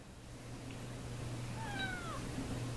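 A kitten gives one drawn-out rising and falling meow up close, over a low steady hum in a quiet room.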